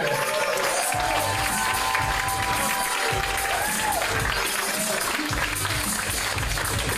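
Comedy club audience in San Diego clapping and cheering as a stand-up comedian takes the stage, a steady crowd wash with scattered whoops and music underneath.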